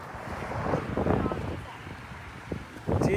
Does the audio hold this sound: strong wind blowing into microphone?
yes